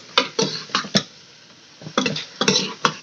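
A spoon taps and scrapes through kachnar keema in a cooking pot, producing sharp clinking knocks in two irregular bursts with a short pause between them and no voices.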